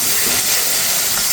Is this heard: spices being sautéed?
yes